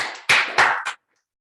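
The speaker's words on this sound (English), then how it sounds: "Let's give him a round of applause." Audience applause after a startup pitch at a 1 Million Cups event in Chico, a short loud burst of clapping that cuts off abruptly after about a second.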